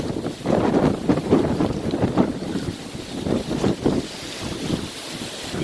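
Strong wind gusts near 60 mph buffet an outdoor microphone, producing loud, rough, surging roars that rise and fall irregularly throughout, with no voices.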